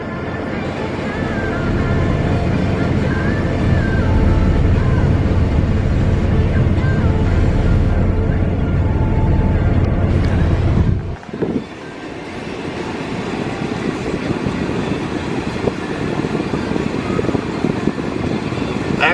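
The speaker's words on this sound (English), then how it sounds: "there seems to be a major exhaust leak now, and we can hear a rattle whenever it's on throttle" A car with a major exhaust leak after muffler damage, heard from inside as a loud, rough droning roar with wind noise that cuts off abruptly midway, then a lower, rumbling drone continues.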